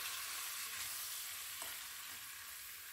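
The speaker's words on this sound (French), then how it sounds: "Et je laisse bien rissoler le tout." Tortilla filling with spices frying steadily in a pan over medium heat, a continuous close hiss and crackle of sizzling with a faint stir partway through.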